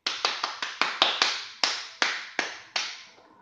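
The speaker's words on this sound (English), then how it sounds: "In case you can't tell, I'm clapping." Hands clap about eleven times in an uneven rhythm, sharp and close, the claps spaced wider toward the end and the last one faint, with no other sound around them.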